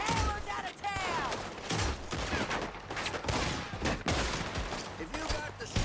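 Gunfire crackles through a chaotic Red Dead Redemption 2 town gunfight, with repeated shots and bursts mixed with shouting voices and game effects throughout.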